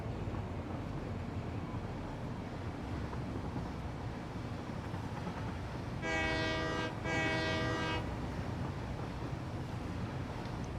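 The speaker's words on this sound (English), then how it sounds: "So we're gonna jump in a train" Steady rumbling rail noise from a train ride in the Satisfactory 1.0 factory-building game, with two long harmonic train horn blasts sounding partway through; no talking.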